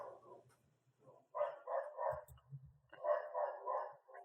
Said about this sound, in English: A lot of dogs in these subway tracks.